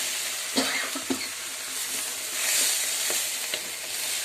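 Chopped green beans sizzle in a pan for a Kerala stir-fry, a soft steady frying hiss broken by several distinct spatula scrapes and taps as they are stirred; no talking.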